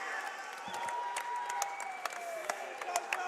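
Crowd at a cage fight main event applauding and cheering steadily, with scattered sharp claps over a dense, distant wash of noise, no talk on top.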